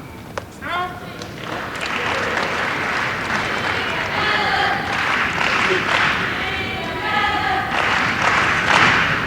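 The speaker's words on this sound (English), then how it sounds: "Danish fans in the crowd here in Birmingham trying to get behind Peter Gade." Danish fans in the crowd cheer and clap for Peter Gade at a 2001 All England badminton men's singles semifinal in Birmingham, a sustained, rising crowd roar with scattered shouts.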